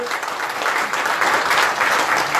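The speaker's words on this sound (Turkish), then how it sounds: "Onlara büyük bir alkış istiyorum sizlerden bu cesaretlerinden dolayı." Steady applause from a crowd at a cow competition, a dense patter of clapping hands that continues evenly throughout.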